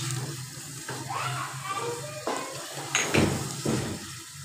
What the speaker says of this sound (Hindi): इसमें पानी डाल देंगे ताकि मसाला लगे ना